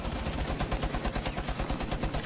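Rapid, dense gunfire from the video game Rainbow Six Siege, a steady stream of loud, closely spaced shots running throughout with no talk over it.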